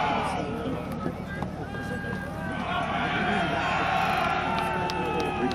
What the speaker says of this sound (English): We can see Harold's soldiers giving him a cheer as they form up.